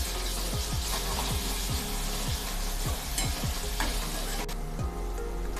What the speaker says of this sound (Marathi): हाफ टीस्पून अद्रक लसूणची पेस्ट टाकून घेऊया आणि ही सुद्धा आपण कांद्यासोबत मिनिटभर परतून घेऊया।